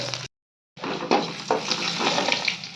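Fish frying in hot oil in a home kitchen, a steady close sizzle with crackling bursts after a brief silent gap.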